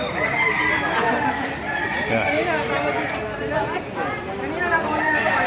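A crowded flock of chickens clucks and roosters crow over one another continuously at a chicken market in Baliuag, Bulacan, loud and close, with people chattering in the background.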